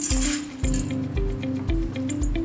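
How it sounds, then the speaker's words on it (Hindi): Crunchy fried besan sev is lifted and handled in a metal utensil, giving light clinking and crisp rustling in a repeated rhythm, close and fairly quiet. "हर बार उठाने पर जब मैं आपको दिखा रही हूँ तो इसमें से कुरकुरेपन की आवाज अलग से आ रही है।"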